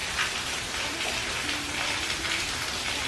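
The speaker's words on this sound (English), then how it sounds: "As you can see, the rain is already coming" Rain falls outside onto a back porch ahead of a hurricane, a dense, steady patter and hiss of drops on surfaces that holds at moderate loudness throughout, with no one talking.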